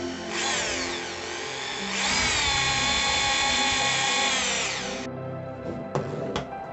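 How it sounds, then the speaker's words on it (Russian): A power drill whines steadily at high speed, rising in pitch and strain as it bores through two polymer clay pieces, then cuts off, followed by a few short bursts. "Сверлим насквозь обе наши заготовки таким образом."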